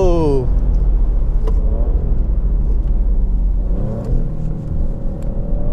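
A Maserati Trofeo with a 550-horsepower engine revs on a race track, its loud, steady roar rising and falling in pitch as it accelerates close by, with shifts heard along the way.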